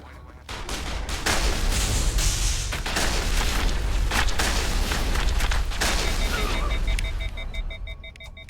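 Repeated heavy shotgun blasts go off in the video game Mass Effect, booming shots in a dense, continuous battle din over a low rumble.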